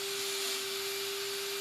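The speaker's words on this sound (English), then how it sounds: "We got a vacuum thing going." A vacuum cleaner runs nonstop with a steady, even hum and broad airy rush, moderately distant and unchanging across the short stretch, with no voices.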